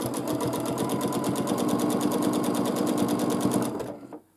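A sewing machine runs steadily for about four seconds during free-motion quilting of a large quilt, a fast, even needle rhythm that stays loud and close before winding down and stopping.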